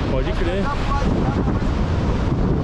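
Surf breaking close to shore on a rising tide at a beach facing Ilha dos Ovos in Santana, a steady broadband roar with wind buffeting the microphone, while people talk casually over it.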